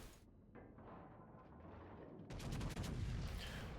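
Ship guns fire high-explosive shells in the World of Warships naval game, muffled booms followed by a heavier rumbling salvo of impacts, moderately loud and continuous.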